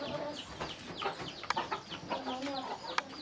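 Fighting roosters of mixed Burma, Saigon, Pat Khoi and Bangkok lineage cluck and call in a farm setting, a few sharp louder calls standing out over a steady murmur of birds, fairly close.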